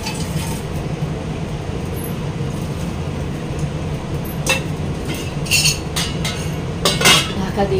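Metal clinks of a lid set onto a cooking pot of vegetables, several bright taps and a final clatter late in the clip over a steady kitchen hum.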